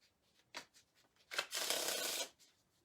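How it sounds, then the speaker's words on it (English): A deck of playing cards is handled quietly, with a couple of short rubbing flicks and then a smooth, whirring riffle shuffle lasting about a second, close and soft. "Give the cards a shuffle."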